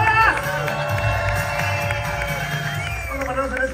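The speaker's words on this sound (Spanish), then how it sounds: "¡Un aplauso chingón para todas!" A concert crowd at a Brincos Dieras show in Tucson, Arizona, cheering and whooping in a dense, steady wash of noise, with a few voices shouting near the front.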